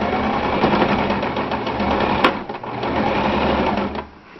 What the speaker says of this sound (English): you just sew down both seams